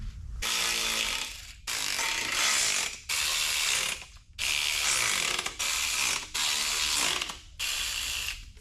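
A hand wrench ratchets on small 10 mm exhaust bolts of a 454 big-block V8 in a 1972 Chevrolet C10, loud and close, in about six rapid clicking bursts separated by short pauses.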